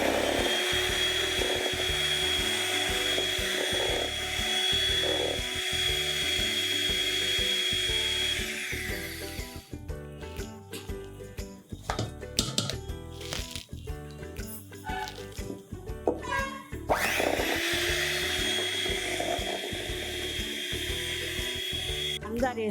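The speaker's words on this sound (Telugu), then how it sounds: "కొంచెం కొంచెం వేసుకుంటూ బీట్ చేసుకోండి." An electric beater whirs as it beats eggs while powdered sugar is added, ready for a pineapple pastry cake. The drone runs steadily and close, cutting in and out with changes in pitch as it works.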